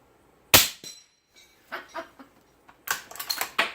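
Sharp, bright impacts with metallic ring from suppressed Ruger American .300 Blackout subsonic rifle shots hitting steel: a lone crack, a few softer hits, then a dense cluster of quick clanks near the end, moderately close.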